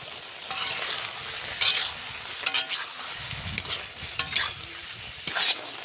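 Bengali pui shak (Malabar spinach) curry stirred in a pan after sugar is added, repeated scraping strokes of a spatula with light clinks over a faint sizzle, close and moderate in level.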